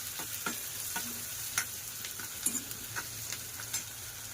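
Onion fries in a pan for a dried bombil curry, a soft continuous sizzle with scattered stirring scrapes and ticks, quiet and close, with no voices.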